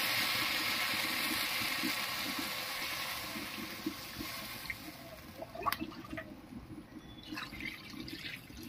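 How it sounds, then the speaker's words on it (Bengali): Water pours into a pan of spiced thin shing fish curry with potol and potatoes. A steady rushing stream thins out, followed by scattered drips and light splashes. "এবারে ঝোলের জন্য জল দেবো।"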